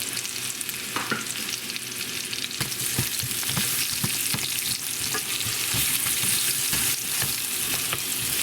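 Onions sear in a hot pan for French onion chicken thighs, a dense continuous sizzle broken by repeated scraping and clacking as they are stirred and tossed, close and fairly loud, with no talking.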